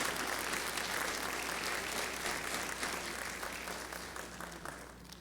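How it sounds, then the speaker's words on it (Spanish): A church congregation applauds together, a dense, continuous wash of clapping that holds steady before slowly thinning toward the end, with no talking over it. "¿Le puedes dar un aplauso al Señor por eso?"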